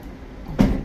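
Cruise ship cabin balcony door on Odyssey of the Seas shutting, a single soft thud against quiet outdoor ambience.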